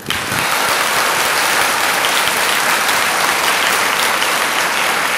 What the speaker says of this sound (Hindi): बार ताली हो जाए।